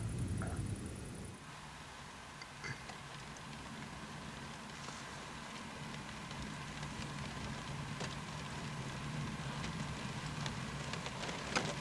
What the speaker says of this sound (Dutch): die bui die gaat zo langzaam dat je de regen aan hoort komen